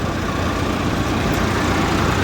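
A Sonalika tractor running a jumbo thresher for cumin gives off a loud, dense, unbroken engine roar close by, with no pauses or voices.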